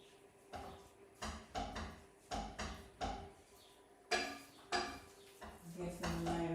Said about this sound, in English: we're just going to continue stirring this for another 10 or so minutes